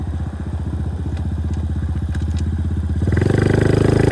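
Icebear Champion 125cc CT70-clone motorcycle under throttle, its single-cylinder engine putting out a steady, rapid close-up putter that swells louder and deeper as the revs climb near the end.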